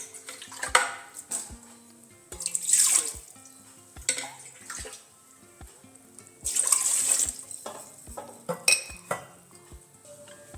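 Water runs in short bursts into a metal pot set to heat for a dhokla steamer on a gas stove, surrounded by close clinks and clatter of utensils and pans.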